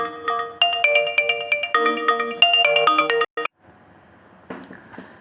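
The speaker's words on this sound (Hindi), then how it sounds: "हाँ, वो एक फ़ोन आ गया था" A mobile phone ringtone plays a bright, repeating synthesized melody in steady phrases, then cuts off abruptly and leaves faint background noise.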